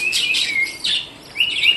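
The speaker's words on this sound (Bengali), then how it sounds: "লুটিনো জাতের যে বদ্রি পাখিগুলো আছে" Lutino budgerigars chirping in short, bright bursts, a few quick tweets close by with brief pauses between them.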